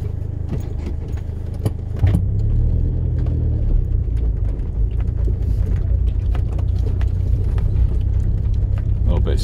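A Land Rover Freelander 1 climbs a hill track in Derbyshire, its engine a low steady rumble with scattered clicks and bumps from the cabin and a voice speaking.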